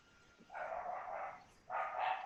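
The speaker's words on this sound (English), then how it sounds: "Sorry, my dogs." Household dogs bark in two short bursts, fairly close yet moderately soft, with no one talking over them.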